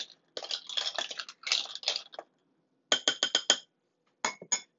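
A drink being stirred in a glass for a festival cocktail, with clusters of bright, rapid clinks against the glass in several bursts separated by short pauses.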